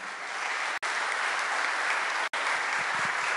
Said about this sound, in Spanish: Damos un aplauso, por favor, a Rafael Bucio